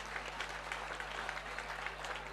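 An audience at an All India Mushaira poetry gathering in Khatauli claps, a fairly faint, continuous patter of many hands heard from a distance.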